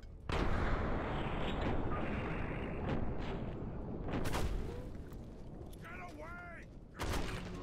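Grenade blasts and gunfire in the modded wasteland shooter Fallout 3, loud booming bursts over a dense, constant din of combat, with a couple of sharp later hits and a short whine near the end.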